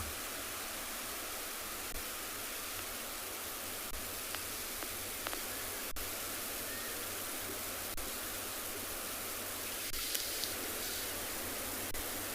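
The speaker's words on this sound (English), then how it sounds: "Yeah, it's become quite a blustery afternoon" Strong gusty wind roars in a steady wash of noise across an open South African safari landscape on a blustery afternoon, with faint scattered clicks and knocks beneath it.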